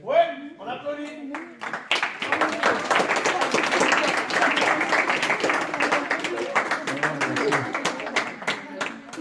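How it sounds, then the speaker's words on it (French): A youth group at a parish evening party in Sigean applauds the winning red team, with brisk clapping from a small crowd building after a short spoken announcement and continuing steadily, with voices chattering underneath. "Ouais, on applaudit."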